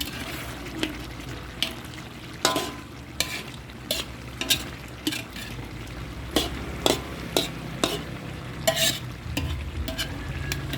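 Chicken frying in a pan, stirred with a utensil that scrapes and clacks against the metal in repeated sharp strokes over a steady low sizzle.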